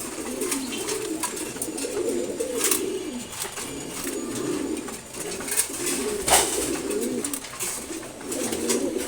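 Pigeons in a loft coo in soft, repeated rounded phrases throughout, a pair among them, with faint chirps and rustling over a steady low background.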